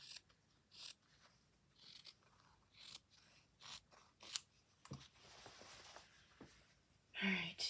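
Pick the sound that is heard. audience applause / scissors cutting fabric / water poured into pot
scissors cutting fabric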